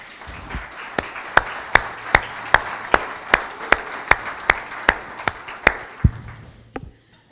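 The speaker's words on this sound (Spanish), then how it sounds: "Denle un aplauso al Señor" A steady series of sharp, evenly spaced claps over a soft crowd murmur, like rhythmic audience clapping in a large room.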